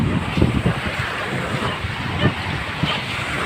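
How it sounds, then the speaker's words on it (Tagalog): Ocean surf rolls continuously with heavy wind buffeting the microphone, a rough, constant rumble with scattered bursts. "Ito yung alon ngayon."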